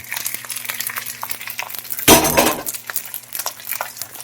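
Garlic fried rice stirred and tossed in a pan with a utensil, one loud scraping burst near the middle amid quieter clinks and faint sizzle, no talking.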